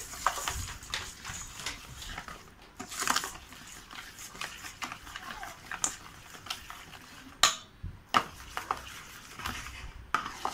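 Sugar is stirred by hand into palm fruit dough in a bowl, giving soft, uneven scraping and clinking strokes with a few sharper knocks, close and quiet, with no talk.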